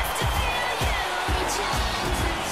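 A sellout wrestling arena crowd of over 20,000 cheers and roars as a dense, sustained wall of noise, with rhythmic low thumps pulsing through it.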